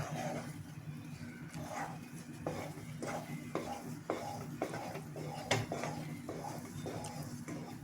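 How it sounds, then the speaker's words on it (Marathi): A spoon steadily stirs roasted sabudana barfi mixture in a pan, giving soft rhythmic scrapes and clinks about every half second, close but fairly quiet, with no voices. "आणि याचा घट्ट गोळा होईपर्यंत आपण हलवत राहायचं"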